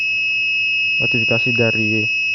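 A steady high-pitched electronic buzzer tone from an ESP32-based IoT alarm sounds continuously through the whole stretch, while a voice talks over it in the middle.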